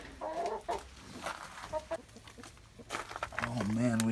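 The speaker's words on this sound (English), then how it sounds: "we have a couple hens in the nesting boxes here too" Hens clucking inside a chicken coop with nesting boxes during an ice storm, soft irregular clucks and murmurs close by, a louder drawn-out call near the end, with a person speaking intermittently.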